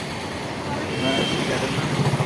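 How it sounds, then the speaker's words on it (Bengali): Cars and motorbikes pass along a main road near a bridge, a steady broadband rush of traffic that swells midway and stays close and fairly loud, with faint voices underneath. "গাড়িগুলো গাড়িগুলো চলছে"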